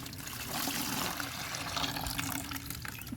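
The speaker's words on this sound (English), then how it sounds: "we're going to tip this thing over and we're going to rinse it in the opposite direction of flow" Water rushes steadily through a descaled Pentair IntelliChlor IC40 salt chlorinator cell, rinsed against the normal direction of flow, making a continuous close splashing hiss.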